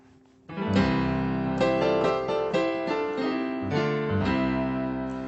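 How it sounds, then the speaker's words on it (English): Piano chords in close triads move up and down together, carrying a melody in a steady, ringing, sustained passage with no voices. "I'm really harmonizing a melody with these two triads up and down the keyboard"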